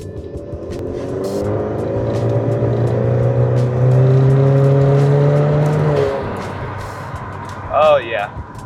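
Turbocharged Kia engine with methanol injection revving hard, a loud rising drone that climbs for several seconds, then drops off, followed by a short burst of higher whine and chatter.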